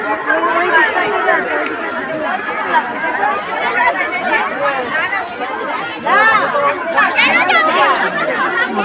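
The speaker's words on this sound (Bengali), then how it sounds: "ভাই বিশাল ভিড়। বিশাল মেলা" A large crowd chattering at a fair, dense loud hubbub of many voices blending continuously close by.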